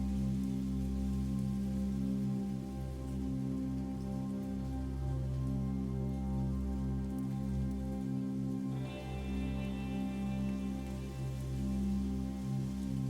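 Soft, sustained new-age synth music plays from a CD on a Sega Dreamcast through a portable speaker, steady and fairly loud throughout with no talking.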